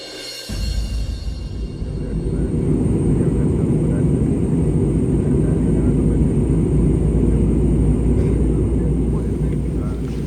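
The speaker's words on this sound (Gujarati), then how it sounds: "પહેલી વાર પ્લેનમાં બેઠો" Inside a passenger airplane, a loud, steady engine and cabin roar drones low and unbroken from start to finish, swelling slightly in the first seconds and then holding constant.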